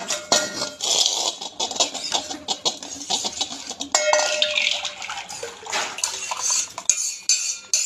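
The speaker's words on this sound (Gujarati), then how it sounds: "તીનની તપેલી આપણે સાફ કરી નાખી છે એમાં ભરી દઈએ" Ice cream mixture with cashew pieces is filled into a cleaned tin pan, with close clinking and scraping of metal utensils and a faint liquid pour running steadily throughout, with no talk.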